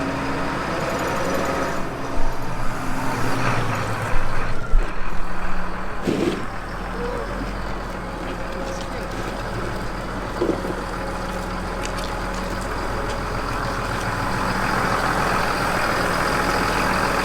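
A farm tractor with big tyres idles steadily while a seed drill is hooked on behind it, a low continuous engine rumble with occasional metallic clunks and knocks from the hitching work.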